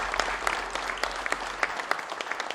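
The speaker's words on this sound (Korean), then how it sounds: "이재명 후보님께 다시 한번 큰 박수 부탁드립니다" Audience applause at a Korean presidential campaign event with business leaders, steady clapping from a crowd that holds for a couple of seconds, moderately distant and without voices over it.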